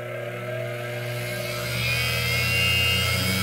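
A ProForm 330x treadmill motor runs through an MC60 speed controller, a steady whining hum close by that rises in pitch and loudness as it speeds up.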